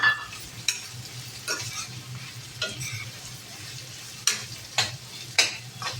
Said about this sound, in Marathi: आता हा कांदा आहे तो घालते. छान परतून घ्यायचा. मोठाच गॅस ठेवायचा.